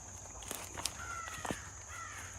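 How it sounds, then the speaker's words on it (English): A crow caws outdoors on rural homestead property. Several harsh calls sound at a moderate distance against quiet background hiss, with faint footsteps nearby. "Some crow or something over there is going nuts."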